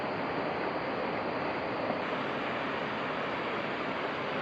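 Continuous rushing roar of a waterfall on the Tosna river, broad and steady like surf, heard alone and fairly quiet with no voices.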